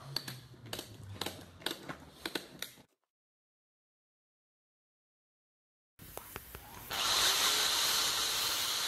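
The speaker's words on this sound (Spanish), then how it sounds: "Ahora hago el resto de los agujeros y pongo todos los tornillos" A tool drills holes and drives screws into plastic cassette tapes. Sharp close clicks and taps give way to a pause, then a loud continuous whirring drill sound.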